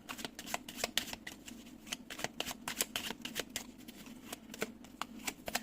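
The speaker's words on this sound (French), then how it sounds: "On va aller voir, on va aller prendre une carte de plus." A tarot deck is shuffled and a card drawn, giving quiet, close riffling flicks and soft card snaps in a steady run, with almost no talking.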